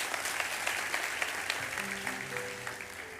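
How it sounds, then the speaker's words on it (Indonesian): Church congregation applause during a sermon, many hands clapping steadily at a moderate distance, with a sustained musical tone entering partway through. "Tepuk tangan bagi Tuhan."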